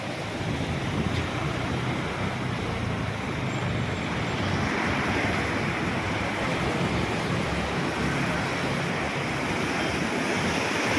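Sea waves wash continuously onto an eroded beach with only a few rocks left, a broad, steady roar of surf mixed with wind buffeting the microphone, with no talking.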